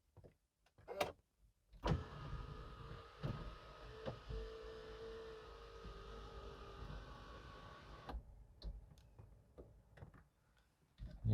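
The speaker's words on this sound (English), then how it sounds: "sunroof can be also opened up here" A Land Rover Discovery 4 3.0 TDV6 electric sunroof motor hums steadily for several seconds after a few clicks, then stops, followed by scattered faint ticks in a quiet cabin.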